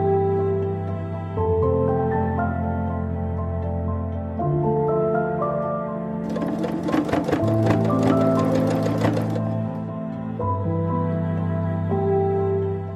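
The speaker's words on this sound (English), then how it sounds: "I stitched the gathered bottom tier to the top tier of the skirt. And I sewed it on there" A sewing machine stitches a gathered bottom tier onto the top tier of a skirt. Its motor hums steadily and loudly up close, with a faster rattling burst in the middle before it settles back to an even drone.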